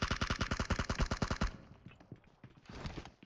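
Automatic gunfire in the mobile game PUBG Mobile: a rapid, evenly spaced burst of about a dozen shots for a second and a half, then quieter scattered shots and rumble.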